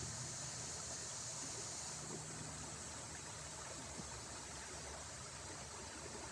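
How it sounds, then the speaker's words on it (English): River water flowing in Glendale Nature Park, South Carolina, a steady, even rushing wash heard from nearby with no voices. "Getting another shot of the river."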